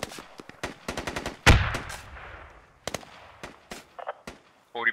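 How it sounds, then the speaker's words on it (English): An explosion goes off near a ship in an online combat video game, with a sharp loud blast and a long rumbling decay, set among scattered bursts of gunfire and voices. "Explosion just shy of Hunter."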